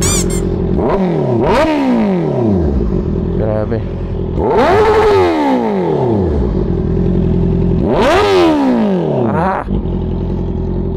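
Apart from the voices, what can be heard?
IXIL full system exhaust on 2024 Honda CB650R revving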